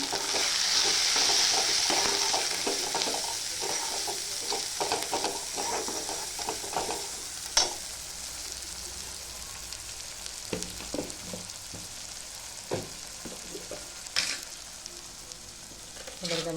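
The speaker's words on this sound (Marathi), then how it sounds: "याच्यावरती टाकूया काळा मसाला थोडासा गरम मसाला हे पण तेलावर छान पैकी फ्राय होवायचं" Black masala and garam masala frying in hot oil for chicken fry, with a sizzling hiss and scattered stirring scrapes and clinks of a spoon against the pan, loudest at the start and settling lower.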